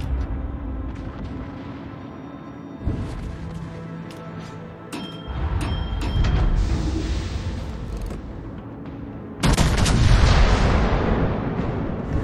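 Naval gunfire from warships in World of Warships during a 9-vs-9 brawl: a steady bed of rumbling cannon booms with a sharp, loud burst of fire about two-thirds of the way through and sustained heavy blasts after.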